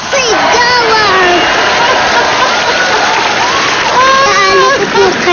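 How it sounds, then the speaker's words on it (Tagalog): TV variety show studio audience applauding with loud shouting and cheering, a dense, continuous roar of clapping mixed with excited voices throughout. "Palakpakan may kasama sigawan."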